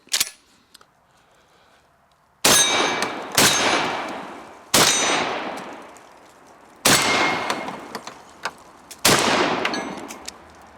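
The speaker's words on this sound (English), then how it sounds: "Yeah, shoots the buckshot, no problem." A Fed Arm FX3 12-gauge semi-automatic shotgun fires Fiocchi double-aught buckshot outdoors, five loud close booms spaced about a second apart, each followed by a fading echo, with a faint metallic clink early on.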